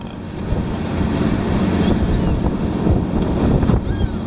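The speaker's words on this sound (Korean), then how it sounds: "바람 이제 살살 분다, 이제." Wind blowing steadily over a fishing boat at sea off Tongyeong during hairtail fishing, a continuous close rushing roar with microphone buffeting and water wash, some faint background voices.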